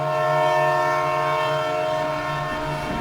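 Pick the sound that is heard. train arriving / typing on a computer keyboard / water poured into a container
train arriving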